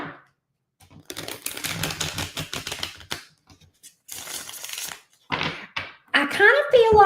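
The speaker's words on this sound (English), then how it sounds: "Let me get another shuffle here" Tarot cards are shuffled in bursts of riffling and slapping, close and crisp, with short pauses between handfuls.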